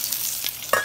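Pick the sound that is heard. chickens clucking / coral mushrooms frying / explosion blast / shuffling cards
coral mushrooms frying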